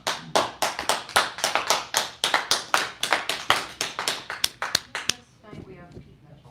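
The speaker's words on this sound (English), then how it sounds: "No, that was a sad little applause." Thin, sparse clapping from a few hands at a town meeting, distinct individual claps in an uneven rhythm for about five seconds before stopping.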